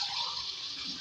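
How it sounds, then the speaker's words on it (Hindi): Two glasses of water pour into a cooking pot of fried fish masala, a steady, splashy gush close by, brief and continuous without talk. "इसी तरीके से इसमें पानी ऐड करेंगे 2 गिलास"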